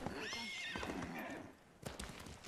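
Horse in Ghost of Tsushima gives a loud, close whinny that rises and falls, then a short burst of hoof clatter near the end.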